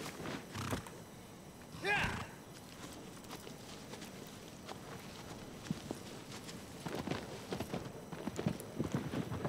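A horse gallops in Shadow of the Colossus, its rapid hoofbeats thudding against a low outdoor rumble, with a louder burst early on and the beats picking up again toward the end.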